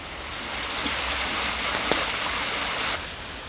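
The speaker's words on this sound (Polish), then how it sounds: "Wzmagający się nurt potoku Westerplatte." Rushing water of the swelling Westerplatte mountain stream makes a steady broadband roar, close and full, with a brief sharper splash near the middle and no talk.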